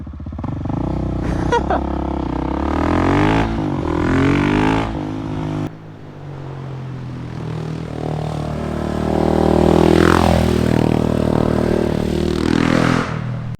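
Husqvarna 701 Supermoto single-cylinder motorcycle being ridden, its engine revving up and down through the gears with changing pitch, loud and close, including a moment of braking with the rear wheel locked.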